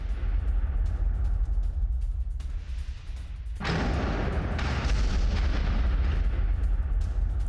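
Explosions from an Israeli strike on a Hezbollah command centre at Markaba in Lebanon rumble at a distance as low booming, with a heavier blast surging in midway and the roar sustained after.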